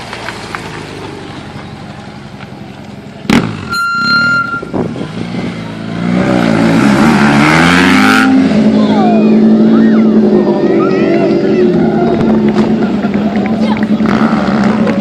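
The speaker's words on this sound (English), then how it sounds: "I'm going to fire this 1000 up." A stock 1000 sport motorcycle is started, with a sharp burst as it fires and then a loud revving roar that settles into a steady, rough idle, while someone talks over the start.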